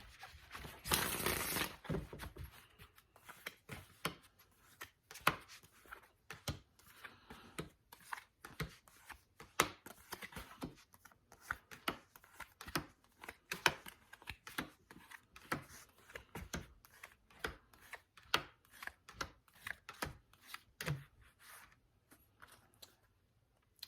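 Rapid riffling and snapping of tarot cards being shuffled, a long burst of dense clicks followed by many short, sharp flicks in irregular rhythm, close up.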